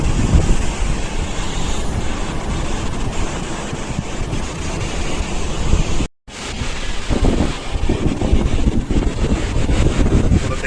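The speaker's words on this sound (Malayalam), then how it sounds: "കടലെന്ന് പറഞ്ഞാൽ കണ്ട രക്ഷയില്ലാത്ത കടലാണ്" Loud, constant rush of rough sea surf at Vizhinjam port mixed with heavy wind buffeting, with a brief dropout midway before the roaring water resumes.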